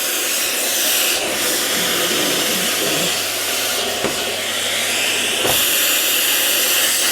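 A Miele Guard S1 vacuum cleaner runs steadily with a loud, close rushing hiss, its pitch shifting slightly as it moves, with a few faint clicks.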